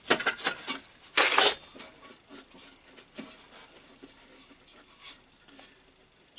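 A spare camping stove is pulled out and handled, giving a scattered series of close metallic clinks, scrapes and rattles of varying loudness, with one louder clatter early on.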